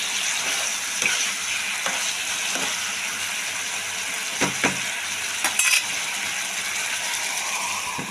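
Pieces of fried tilapia go into a pan for a mustard curry, with a steady oil sizzle throughout, several sharp clattering knocks from utensil and pan, and a brief scraping burst near the end; no voices.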